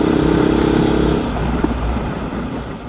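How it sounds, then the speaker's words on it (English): A Honda CB500X motorcycle rides on a road in Shanghai, its engine giving a close, loud, rumbling hum that pulses at first, then eases into a smoother steady drone. "I got to get on the road with my Honda CB500X again"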